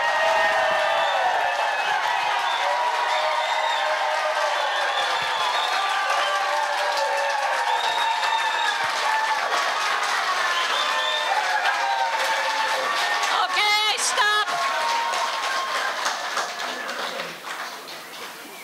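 An audience at a Chamber of Commerce candidate debate in Woodland applauds, sustained clapping from many hands filling the room before thinning and fading out at the end.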